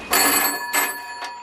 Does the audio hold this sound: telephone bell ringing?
yes